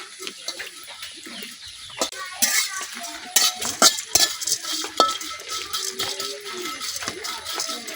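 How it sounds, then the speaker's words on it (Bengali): Dried fish (shutki) dry-frying over a low flame in a pan without oil, turned with a utensil: irregular close scrapes, taps and clatter against the pan over a faint steady background, with no loud sizzle. "একটা শুটকি পুড়ে নাই, আস্তে আস্তে ভাজা হইতেছে।"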